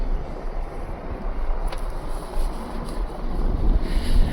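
Wind gusting across a snowy high-altitude mountain pass at Bumla Pass in Arunachal Pradesh, a steady low rumble with buffeting against the microphone, continuous and fairly loud with no talk.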